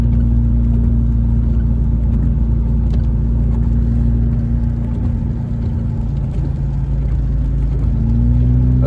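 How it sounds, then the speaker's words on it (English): Car idling inside an automatic car wash in Big Bear, California, a steady loud low engine rumble and whir continuing throughout with no voices. "we're getting a car wash."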